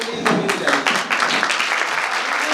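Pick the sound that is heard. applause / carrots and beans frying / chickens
applause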